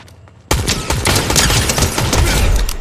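Gunfire in Fortnite erupts suddenly after a brief near-silence into a dense, loud barrage of overlapping shots and cracks that continues without a break. No one speaks.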